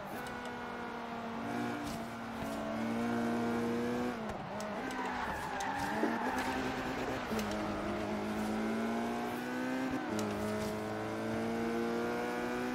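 Opel GT engine racing in Forza Horizon 3, a steady droning exhaust note that rises and falls through gear changes, with faint tire squeals and other cars nearby, continuous and fairly loud throughout.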